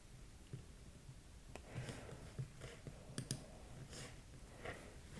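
Faint, scattered computer mouse clicks, a handful of light sharp taps spaced irregularly against a quiet background.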